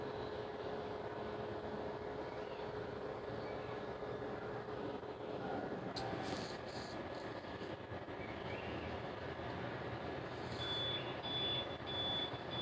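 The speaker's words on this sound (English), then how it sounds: "So continuous beep noise can be heard." APC BR1000G UPS sounding a continuous warning beep, a thin steady high tone that appears late and stays fairly faint over a constant humming background.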